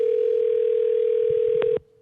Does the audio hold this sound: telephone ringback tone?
yes